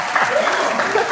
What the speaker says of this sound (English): The crowd are going crazy.